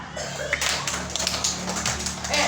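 A class of children claps hands together in a dense, uneven patter of many overlapping claps that carries on steadily throughout.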